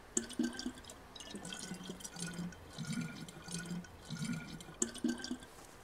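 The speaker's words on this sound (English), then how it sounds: "let's go fill this water bottle up" Water trickling and dripping as a bottle is filled in the survival game DayZ, a soft, uneven splashing in short bursts over faint outdoor ambience, with no talking.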